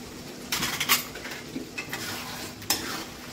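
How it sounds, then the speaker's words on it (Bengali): Meat cooking with yogurt and tomato sauce in a pan, stirred with a spoon: a soft continuous sizzle broken by several scraping, clinking stirs against the pan, near and fairly quiet. "এটাকেও ভালো করে নাড়াচাড়া করে কষিয়ে নেবে"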